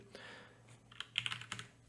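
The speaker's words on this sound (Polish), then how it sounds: "wciskam klawisz spacja" Keys on a computer keyboard, including the space bar, click in a short, quiet burst of taps that bunch together toward the end, heard alone without talk.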